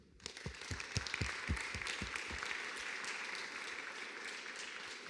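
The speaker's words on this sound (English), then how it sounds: "let's give a round of applause to the organization team" Summit audience applauds the organization team at the opening of an AI and blockchain conference, clapping rising quickly to a dense, even roar that holds to the end.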